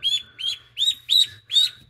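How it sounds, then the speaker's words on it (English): Small blue Swedish ducklings give five short, high chirps in an even rhythm, close and fairly clear over a quiet background. "I just put these little new ducklings that are smaller in here."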